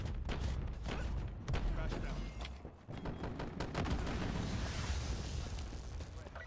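Shotgun blasts in Call of Duty, including incendiary-shell shots, as dense booming bursts and crackling over loud battle noise, with talk mixed in.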